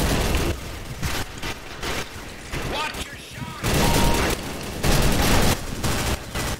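Dense, continuous turret gunfire in the online shooter Combat Arms, loud and rapid bursts rattling almost without pause, with heavier booming shots standing out.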